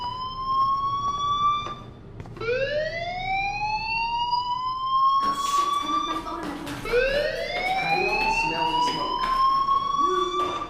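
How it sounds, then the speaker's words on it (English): A fire alarm in the Life is Strange video game sounds as a loud, repeated rising electronic wail. Each sweep climbs and holds, and the alarm keeps sounding throughout over a busy background. "Hey, do you hear that fire alarm? That means you should be outside."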